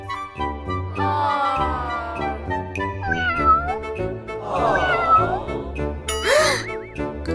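A cat meows several times, drawn-out and wavering, with a busy layer of other sound running steadily underneath.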